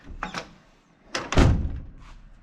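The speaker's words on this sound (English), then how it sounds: "That's a decent slam. That would have closed any door." A 1989 Kenworth Aerodyne cab-over truck door with a damaged jamb gets slammed hard but fails to latch: a lighter knock first, then a loud heavy thunk with rattling decay, close by.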